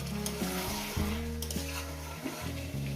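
Mutton braising and frying in a pan, a soft steady sizzle heard close up and fairly quiet, under a droning tonal hum from nearby, with no talking.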